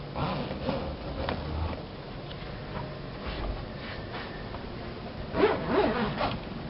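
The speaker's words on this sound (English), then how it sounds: "next thing you want to do is zip up the curtains on each of the four corners" Fabric curtains on a Starcraft pop-up camper are zipped up at a corner, giving a steady, close rasping zip with a few brief pauses over faint background noise.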